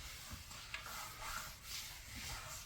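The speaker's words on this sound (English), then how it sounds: "We'll work that in there by hand a little bit too" A hand rubs oil into a cherry wood bench, a continuous soft, close swishing friction with gentle rises and falls and nobody speaking.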